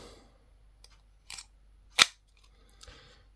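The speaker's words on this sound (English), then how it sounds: "Scissors." A few crisp metallic snips of the small scissors on a Victorinox Swiss Army knife, scattered with one sharper cut in the middle, close and otherwise quiet.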